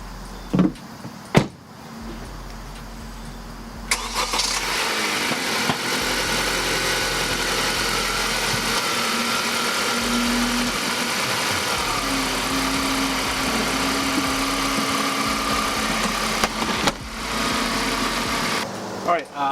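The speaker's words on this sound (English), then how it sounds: "I'm gonna start the car, move it back" A 2015 Honda Accord engine cranks and catches, then settles into a steady idle hum that runs on, with a couple of clunks near the start and end.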